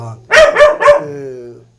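A young Donggyeong puppy, a Korean native dog breed, gives three quick yipping barks in a row, close and fairly loud, with a brief whine trailing off after them.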